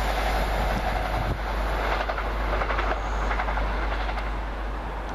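Passenger train running through East Didsbury station on the line toward Manchester Airport, a steady loud rumble and roar of wagons rolling past close by throughout, with no talking.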